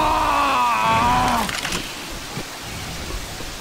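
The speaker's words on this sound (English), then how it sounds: "I hear Hunter" The Hunter special infected in Left 4 Dead 2, a rising, drawn-out screech that lasts about a second and a half, loud and close over rain-like ambience, then fades into scattered quieter game noise.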